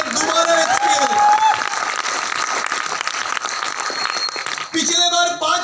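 A crowd applauds loudly and steadily, the clapping swelling at first and continuing to the end, with a voice briefly audible over it.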